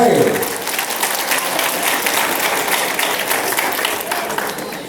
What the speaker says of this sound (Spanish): nuevamente los aplausos